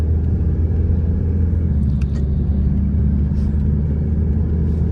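A Peugeot 308 car pulls away in traffic with a heavy, steady low engine rumble, heard from inside the cabin, a few faint clicks over the top.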